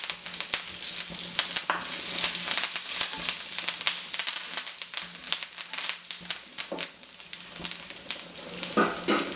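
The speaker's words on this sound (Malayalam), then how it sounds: "പെരുംജീരകം ഒന്ന് മുരിഞ്ഞു വരട്ടെ" Fennel seeds sputter and crackle in hot oil for a Kerala-style prawn roast, a dense, close sizzle with scattered sharp pops running steadily throughout, no talking.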